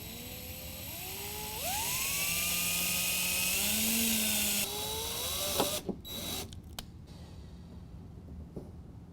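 A drill bores out the hood bump stop impressions to 5/16 inch during a ram air hood install on a 2015 Ford F-150, with a rising, whining spin-up and a steady high whir, then a few clicks and quieter handling.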